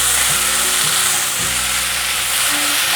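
Cabbage stir-fries quickly in a pan with black fungus for a vegan dish, a loud, dense sizzle that runs without a break, with low scraping bumps from the spatula tossing and no voices.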